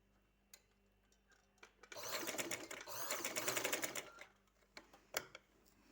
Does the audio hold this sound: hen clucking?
no